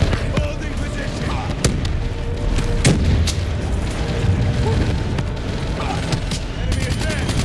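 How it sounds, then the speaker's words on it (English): Booming blasts and scattered gunfire in Call of Duty: Black Ops 3 combat, with a grenade explosion among loud sharp bangs over a constant battlefield roar and soldiers' voices. "Tossing grenade!"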